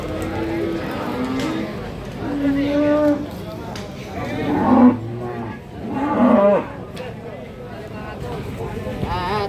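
Cows mooing at the Babat cattle market in Lamongan, with three drawn-out, loud moos that rise and fall over steady market crowd noise while people talk nearby.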